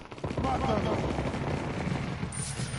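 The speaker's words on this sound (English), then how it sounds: "I feel like this is a great time to try out your new shotgun" Shotgun fire in Resident Evil 4 comes as a loud, dense, continuous burst of gunfire and blast noise that fills the whole moment, close and harsh, with no clear gaps between shots.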